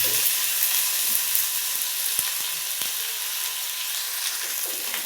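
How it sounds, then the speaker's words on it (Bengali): Dried red chillies and dried fish fry in hot oil, a steady dense sizzle with a few sharp pops and soft stirring knocks, close and continuous with no talk. "এই যে এখনও ভাজা হচ্ছে, ভাজা হয়নি।"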